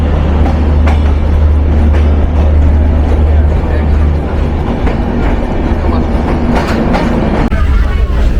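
Inside the Madhumati intercity express on a Bangladesh rail journey, a loud continuous rumble of the train carriage fills the sound. Rhythmic clickety-clack wheel beats run through it, and a sharper clank comes near the end.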